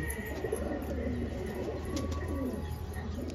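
Pigeons in a loft give low, continuous cooing and faint chirps, heard close and steady across the whole stretch with only slight background talk.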